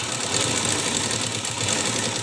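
A sewing machine stitches along a blouse collar with a steady, fast mechanical whir and rattle at an even pace, close and alone, without a break and with no voices.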